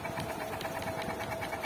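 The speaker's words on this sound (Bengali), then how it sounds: "দেখেন চালু করেছি, মোটর চালু হয়ে গেছে।" A repaired treadmill motor runs steadily, giving off a continuous mechanical hum with a fast, even rhythmic whir throughout.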